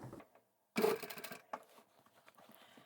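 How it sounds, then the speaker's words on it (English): A sewing machine runs a short burst of top stitching on a scrap-fabric zippered tablet pouch, a close, quick mechanical whir with a few softer stitches and fabric rustles after it. "I'm going to start right at the very end and sew all the way to the other end."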